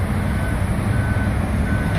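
A big yellow dump truck working near a bulldozer: a steady, close, low diesel rumble that fills the whole stretch.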